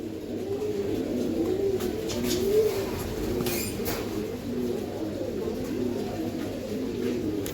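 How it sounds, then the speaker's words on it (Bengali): Old-line pigeons coo steadily and close by, their low rolling calls repeating throughout over a constant background hum. "এক পেয়ার পুরান লাইনের কবুতর"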